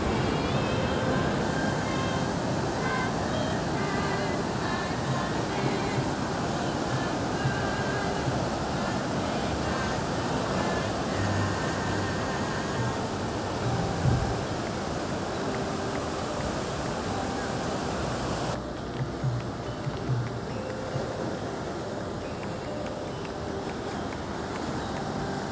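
Waves roll and break continuously onto the sand at Pulang Sawal beach in Gunungkidul, a steady broadband roar of surf with wind buffeting the microphone, loud and unbroken throughout with small surges.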